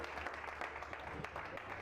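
Applause from the congregation at a church pastors' seminar in Caracas comes as a low, steady patter of many hands, faint and roomy, with a voice mixed in over it.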